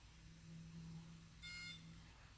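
A DJI Spark drone controller gives one short bright electronic beep during pairing, quiet and close, over a faint low hum.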